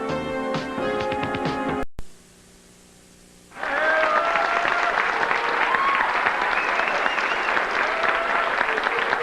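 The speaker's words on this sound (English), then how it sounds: "Tish, they're cheering for you here at Sam's Town" Audience at a 1989 LPBT women's professional bowling tournament at Sam's Town, Las Vegas, bursts into loud, sustained applause and cheering after a brief silence, with scattered whistles and shouts over the steady clapping.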